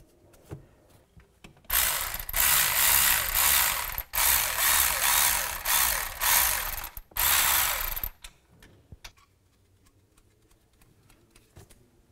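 A ratchet tightens nuts on the CV axle bracket of a 2011-2019 Ford Explorer during a front passenger-side axle replacement, with loud, close bursts of rapid clicking, a few brief pauses, then quiet.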